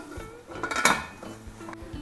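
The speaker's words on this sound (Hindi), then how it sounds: "अब हम ये कंटेनर इसमें रख देंगे और इसका कवर लगा देंगे।" A metal container of Gujarati sandwich dhokla batter clinks down inside a hot pressure cooker, followed by the clatter of the lid being set in place.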